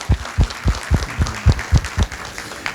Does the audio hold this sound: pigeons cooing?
no